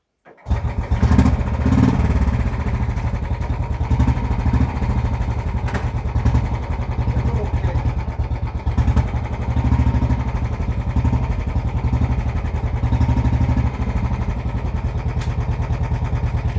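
A Royal Enfield Bullet motorcycle, just after a clutch adjustment, starts with a sudden catch and settles into a loud, close, steady thumping idle that runs without a break to the end.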